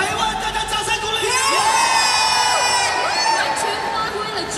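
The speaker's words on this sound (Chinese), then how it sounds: "大家掌声鼓励" A large concert audience in Taiwan cheers and whoops in a sustained, loud roar of voices that fills the hall without pause.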